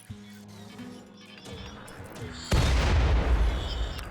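Colonists firing guns in RimWorld: sparse distant pops at first, then a sudden loud burst of gunfire that keeps rumbling to the end.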